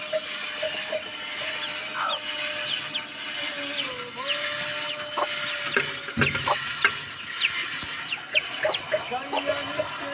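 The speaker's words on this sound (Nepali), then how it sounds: "हेर्नुहोस् गाइस, कुखुरा चेत्तै मिलेर बसेको छन् कि" Chickens cluck and call in a rural Nepali farmyard, scattered short calls near and far over steady background noise, with one louder squawk midway and no talking.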